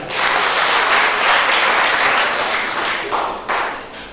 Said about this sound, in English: Allow me to borrow your hands to give Him a mighty hand clap.